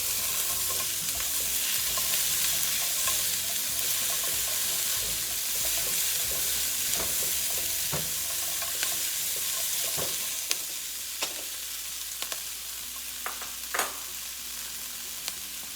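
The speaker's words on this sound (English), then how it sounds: "And now I'm going to throw on the onions." Onions sizzle and fry steadily in a hot pan for a Thai pepper steak, with a loud continuous crackle and occasional sharp clicks and scrapes of stirring, no voices.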